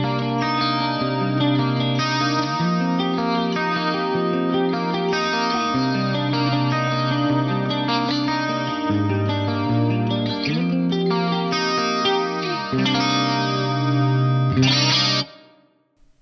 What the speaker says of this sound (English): It's a beautiful, subtle flanger right there.